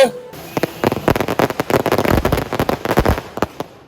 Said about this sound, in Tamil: எங்கள் கோயில் ஃபீஸ்டை முன்னிட்டு அஞ்சு லட்சம் ரூபாய் வெடி கொளுத்து